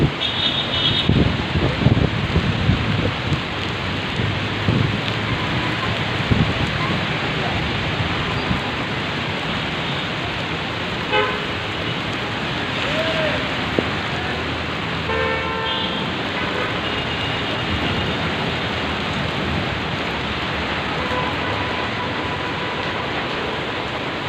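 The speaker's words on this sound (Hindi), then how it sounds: "खासी बारिश हो रही है, तेज़ है।" Heavy rain falling steadily during a hot-weather downpour, a dense continuous hiss close by with faint passing traffic sounds and a brief horn toot in the background.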